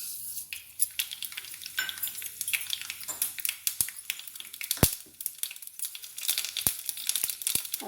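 Mustard seeds pop and sizzle in hot oil in a small kadai on a gas stove, a dense crackling spatter with sharp louder pops scattered throughout, close and alone with no voices.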